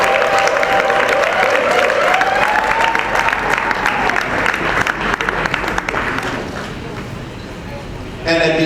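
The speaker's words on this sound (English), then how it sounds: "Please give her a round of applause." Audience applause in a theatre during a cultural stage show, dense sustained clapping and crowd noise, loud and close, tapering near the end with a brief tonal burst at the close.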